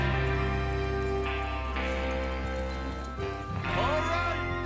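Horses galloping in Red Dead Redemption 2, with hoofbeats under a sustained musical score and brief horse calls near the end, all fairly quiet overall.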